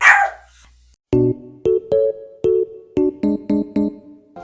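A dog barks in a close, loud series of about ten sharp harmonic barks, some single and some in quick pairs, after a brief quiet start, indoors.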